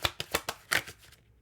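Tarot cards are shuffled and drawn in a reading, a burst of crisp riffling slaps and flicks, about six in quick succession, loud and close, then fading to quiet.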